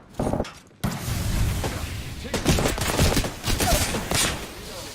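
Gunfire in the battle royale game Apex Legends, with rapid, loud volleys that fire in dense bursts after a short gap and carry on almost without pause.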